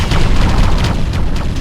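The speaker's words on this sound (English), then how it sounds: "Enemy structure destroyed." An enemy structure explodes in the Ground Control strategy game, giving a loud, continuous rumbling blast with crackling bursts layered through it.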